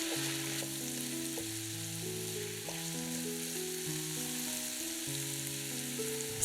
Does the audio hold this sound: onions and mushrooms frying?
yes